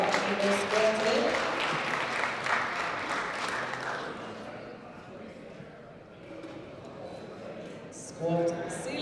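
Applause at a European powerlifting championship, a loud burst of crowd clapping for a lifter that fades after a few seconds, giving way to quieter hall noise and a short voice near the end.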